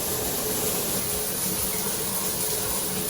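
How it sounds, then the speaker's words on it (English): Water running from two shower heads at once in a Disney World Riviera Resort hotel bathroom, a steady, dense spray with a constant hiss and no pauses. "There's 2 shower heads, and they can both be on at the same time."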